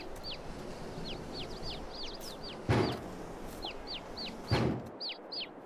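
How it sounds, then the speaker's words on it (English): Hungry farm chickens give repeated short clucks and calls in a busy flurry, with a couple of louder thumps and rustles nearby and no talking. "Hungry, hungry chickens."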